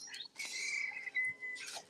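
A small bird outdoors gives a few quiet, thin chirps and tweets in short bursts separated by brief pauses, with no other sound competing.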